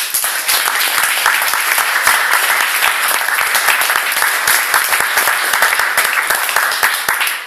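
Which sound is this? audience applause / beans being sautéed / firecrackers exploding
audience applause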